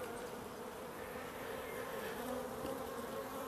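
Honeybees buzz steadily from an open hive, a dense, continuous near drone with no voices and little change in level.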